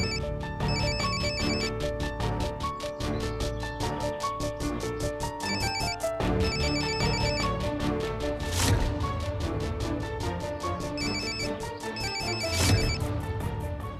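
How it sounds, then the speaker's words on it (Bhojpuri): A telephone ringtone repeats in regular ringing bursts over dramatic background music in a TV drama scene, staying loud and steady throughout with no talk. "आलेख के फोन?"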